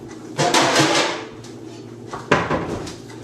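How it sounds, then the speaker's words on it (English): A metal oven tray handled on a kitchen counter, clattering and knocking in a loud burst, then a second sharp clank a couple of seconds later, with no speech. "We're going to get a tray,"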